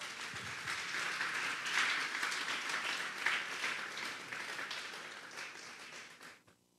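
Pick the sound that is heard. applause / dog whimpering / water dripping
applause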